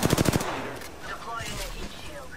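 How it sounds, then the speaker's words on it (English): Video game gunfire opens with a quick burst of rapid automatic shots, loud and close, then fades into scattered faint effects and background game noise. "Shots fired, and they're hitting me."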